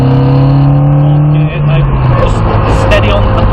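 A Lotus Cortina race car runs at Abingdon Airfield. A loud, steady engine note passes by and drops in pitch midway, then settles into a lower drone while people talk nearby.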